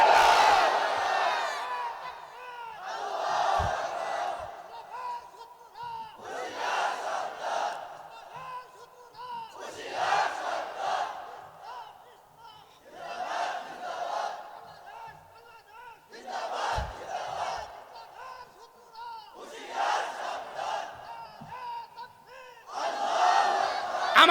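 A large crowd with hands raised chants the takbir, Allahu Akbar, in loud, swelling call-and-response bursts that repeat about every three seconds, each roar rising and fading in a steady rhythm.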